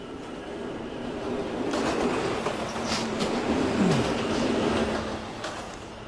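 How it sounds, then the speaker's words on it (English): A D subway train runs along the track with a loud, steady rumble and rattling wheels, a brief rising wheel squeal, and faint clanks, with no one talking. "This is a West Baton bound D train."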